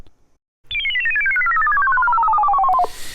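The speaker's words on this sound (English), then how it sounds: "this is the literal PBS logo sound, which is the descending note being modulated by an LFO" A bright synth tone, a descending note modulated by an LFO like the PBS logo sound, glides steadily downward for about two seconds, warbling rapidly up and down in pitch as it falls, then cuts off.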